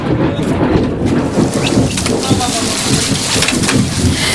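Heavy rain pours steadily with thunder rumbling underneath in a dramatic film scene, a dense, loud, continuous wash of sound with no pauses.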